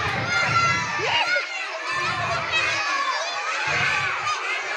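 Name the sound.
schoolchildren shouting and screaming at snake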